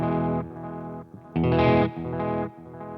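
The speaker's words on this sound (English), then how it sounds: "You can hear the repeats are much darker than the guitar." Guitar chords played through an MXR Carbon Copy Deluxe analog delay pedal, with dark, muffled tape-like repeats trailing after each strum; bursts of playing alternate with fading echoes, loud and close, no talking.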